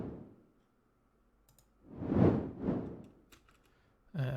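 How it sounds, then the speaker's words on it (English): Two quick pink-noise whooshes swell and fade in succession, shaped by volume automation, between quiet stretches and a short burst of other sound at the end. "And then I've got a simple pink noise whoosh,"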